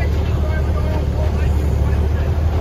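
A 1926 Rumely Oil Pull 30-60 tractor engine running in an antique tractor parade, a steady, loud low rumble that continues without a break, with a voice speaking over it.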